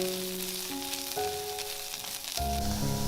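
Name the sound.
dried preserved mustard greens stir-frying in oil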